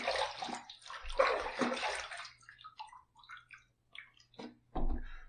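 Water runs and splashes as a cheap Dollar Tree razor is rinsed under a tap, with bursts of gushing flow, drips and sloshing that pause and resume.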